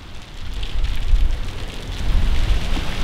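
Steady rain pattering on a surface, a dense hiss with low rumble swelling slightly, no voices.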